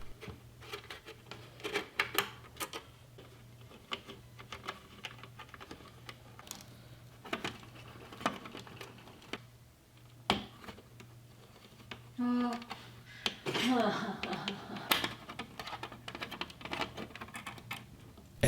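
Screws being removed from the mainboard of an Ender 3 S1 laser engraver, with scattered small clicks, ticks and scraping taps close to the listener, a brief squeaky whine midway, and occasional talk in between.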